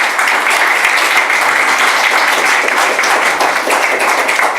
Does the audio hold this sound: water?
no